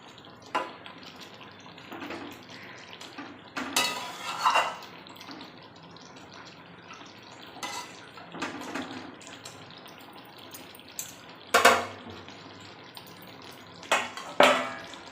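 A metal lid is set back onto a pot of chicken curry simmering in its own released juices, giving a few sharp clanks and knocks scattered over a soft background hiss.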